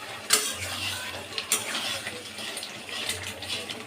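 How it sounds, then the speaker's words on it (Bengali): A spoon scrapes and stirs vegetable khichdi with spices in a pot, giving a few sharp scraping knocks over a soft, steady wet churning close by. "খিচুড়িটা ভালো করে কিন্তু মিশিয়ে মশলার সাথে মিশিয়ে নেবো"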